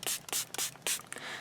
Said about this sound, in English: I'm going to go in with the AOA primer spray that I got from Shop Miss A.